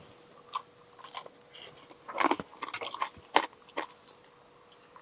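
Someone bites into a crispy fried pork dumpling and chews it. The crunches come close up in irregular bursts, densest in the middle of the clip, over a quiet background.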